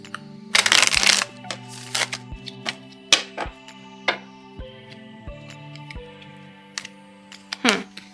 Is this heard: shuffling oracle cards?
yes